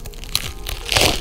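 A McDonald's McChicken sandwich with crispy coating bitten into up close, giving a short crackling crunch that swells loudest at the end.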